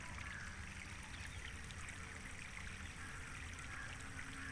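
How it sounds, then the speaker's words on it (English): A steady, continuous rush of a stream running strongly after heavy rain near a mountain in Pune, holding an even level throughout with no voices. "I would like to show you some stream of water. See, this is the water."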